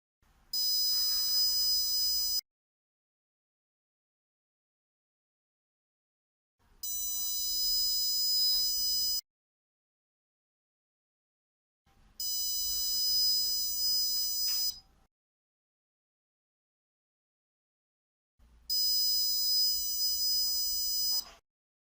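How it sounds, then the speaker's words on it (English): Buzzer on an Arduino alcohol detector with an MQ3 sensor, four long, loud, steady tones of about two to three seconds each, separated by silent gaps, with no talking. "So here is the short demonstration of this alcohol detector using Arduino and MQ3"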